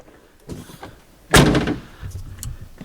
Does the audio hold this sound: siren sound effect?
no